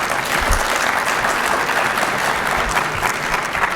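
A luncheon audience at a keynote gives steady, full applause. Many hands clap close and loud, holding an even level throughout.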